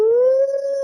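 A human voice imitates a long Bigfoot howl from Ohio, one sustained clear tone that rises slightly and holds steady, loud and close, with no other sound around it.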